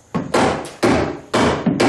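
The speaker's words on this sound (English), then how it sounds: "that's not liking the dead blow hammer" A dead blow hammer striking a hinge pin bushing on a 1976 Corvette restomod, with four loud, close, evenly spaced blows in two seconds, each a dull thud with a short ringing tail.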